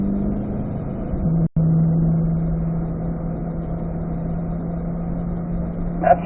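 Corvette accelerating uphill on a race track, a steady engine drone holding a low, even pitch throughout, close and continuous, with a brief dropout partway through.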